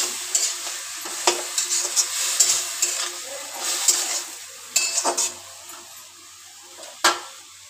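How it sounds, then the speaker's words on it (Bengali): Vegetables are stirred in a pan with a little water, producing a soft frying sizzle and intermittent clinks and scrapes of a utensil against the pan, close and fairly quiet. "এইবার ভালো করে নেড়ে নেবো, নেড়ে একটু জল দিয়ে দেবো।"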